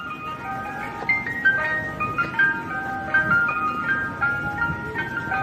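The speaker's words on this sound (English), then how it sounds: "And that's the music he really plays on his truck." Ice cream truck jingle music plays steadily throughout, a bright repeating melody of tinkling tones over a busy low background hum, fairly loud and with no talking.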